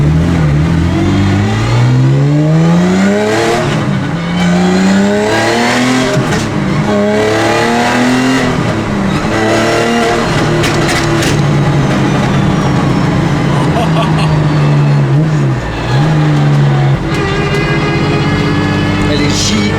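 A rally Porsche fitted with a pop-and-bang exhaust map revs hard at a busy private track, repeated rising and falling engine sweeps with crackling pops, loud and close, with voices talking over it.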